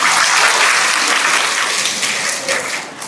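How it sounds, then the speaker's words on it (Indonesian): Dense audience applause fills a religious gathering, a steady wash of many hands clapping throughout, loud and close, thinning slightly at the end. "Tepuk tangan niku kedah."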